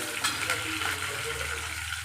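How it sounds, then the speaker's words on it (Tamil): Curry leaves and onions sautéing in a pan, giving a dense, continuous sizzle close up with soft stirring noises and no talking. "கருவேப்பிலை வெங்காயத்தையும் போட்டு வதக்கலாம். நல்லா வதங்கட்டும்."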